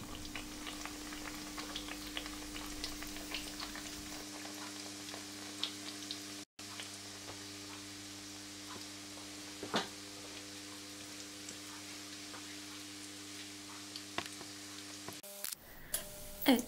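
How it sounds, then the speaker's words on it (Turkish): Yeast-free Turkish puffed dough pieces (balon pişi) frying in hot oil, a soft steady sizzle with faint ticks and pops, quiet and continuous with no talk. "altın renk olana kadar pişilerimi kızartıyorum"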